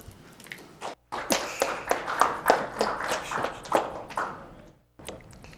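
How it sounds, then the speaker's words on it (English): Scattered hand claps from a small workshop audience welcoming a speaker, with uneven, sparse slaps at close range rising to a patter, then stopping abruptly. "Please welcome him with a round of applause"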